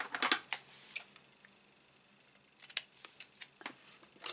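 Scissors snipping through ribbon while wrapping a snowman perfume gift box: a few short, crisp cuts near the start, then a pause and several more light snips and rustles, close and quiet.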